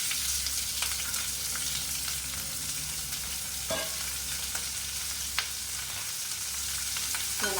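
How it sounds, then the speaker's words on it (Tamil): Onions, curry leaves and green chillies sauté in a hot pan with a loud, steady sizzle and the occasional stir or scrape of a spoon, and nobody speaks. "இதை நல்லா வதக்கிக்கலாம்"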